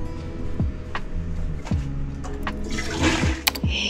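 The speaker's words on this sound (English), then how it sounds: "we flush this in the toilet bowl" A toilet flushes with a rushing gush of water, followed by swirling and refilling, loud and close with no talking.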